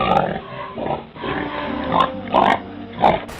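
A pig grunts and oinks repeatedly in close, loud bursts, with short pauses between the rough calls.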